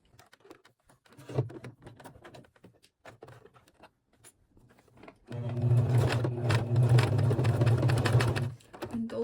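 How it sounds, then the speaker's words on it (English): A sewing machine stitches along the edge of a small leather demilune bag: quiet handling and taps first, then a loud, continuous close whirring run of stitching for a few seconds before it stops. "now we will go and stitch along the edge all the way to this edge"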